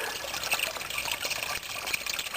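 Water spills from a rural spring box overflow in a steady, soft trickling rush, with light splashy detail and no talk.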